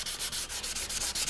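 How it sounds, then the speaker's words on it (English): Hand block sanding on motorcycle paint during an FZR restoration, steady back-and-forth rasping strokes about six per second, close and even, with no talking. "I'm going to just have to block sand this edge a little bit."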